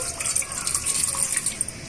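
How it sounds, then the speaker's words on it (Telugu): Water pours steadily into a metal pressure cooker, a continuous splashing gush with no talking. "ఒక కుక్కర్ గిన్నె తీసుకొని అందులోనే మనం తగినన్ని వాటర్ పోసుకోవాలండి"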